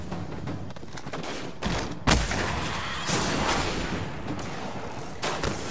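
Sniper rifle fire in the shooter Destiny during a Venus strike, several heavy cracks and booms amid a dense, loud wash of battle noise with no voices.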